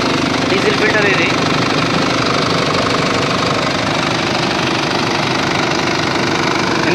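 A 15 kVA diesel generator engine runs close by with a steady knocking, chugging rhythm that holds evenly throughout, while someone talks over the engine noise.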